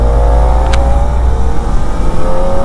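A Kawasaki Ninja ZX-4RR motorcycle accelerates with a loud, steady, high-pitched engine drone that climbs in pitch. Rushing wind roars close to the microphone throughout, and no voices are heard.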